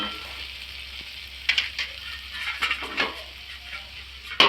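Potatoes with curry leaves cook under a lid in a pan, giving a steady soft sizzle with a few louder stirring and lid scrapes of metal against metal, and no voices.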